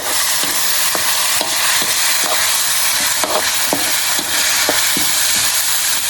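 Shallots and tomatoes frying in a hot pan for Isan-style ub-style stew, a steady loud sizzle broken by repeated clinks and scrapes of a utensil stirring, close and continuous with no talking.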